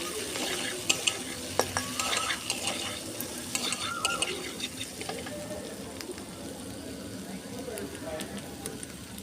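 Capsicum stirred in a pan of spiced frying food, with a steady sizzle and scattered scraping clicks of the spoon against the pan throughout, close and moderately loud.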